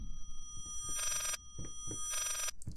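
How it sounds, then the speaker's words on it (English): A phone rings inside the horror video game Layers of Fear, two distinct bursts of bright electronic bell trilling separated by a short pause, heard over low ambient rumble and scattered thuds. "I hear a phone."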